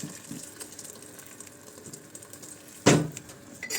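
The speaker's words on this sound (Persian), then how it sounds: "آب جوش رو بهش اضافه میکنم." Boiling water is poured into a pot of sautéed beef tripe for a Turkish-style tripe stew, giving a soft continuous liquid trickle that ends in a sudden loud splashing gush near the end.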